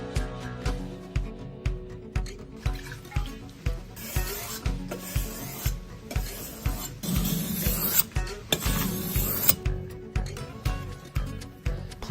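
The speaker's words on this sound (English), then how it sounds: "we also use the Toishi whetstone, which has a 1000 and 3000 grit side, for getting that high quality edge on our knives" A knife is sharpened on a 1000/3000 grit Toishi whetstone, a steady rhythmic rasping of close, repeated strokes about once per second with no speech.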